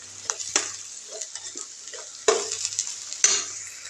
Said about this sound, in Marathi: आपण आता ह्याच्यात हे मसाले टाकून घेऊया.